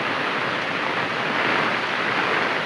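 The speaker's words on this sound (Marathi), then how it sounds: "वारा भरपूर आहे मंडळी इकडे" Steady, loud wind roars without a break in coastal Konkan, Raigad, Maharashtra, a dense broadband rush that could also suggest surf, with no voices.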